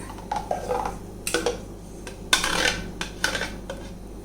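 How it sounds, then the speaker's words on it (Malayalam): A spoon stirs blended avocado into boiled milk for avocado pudding, scraping and clinking against the pot in a few uneven bursts, close and clear with no talk. "ഇട്ട് കൊടുത്ത് നല്ലോണം ഇളക്കി കൊടുക്കാം"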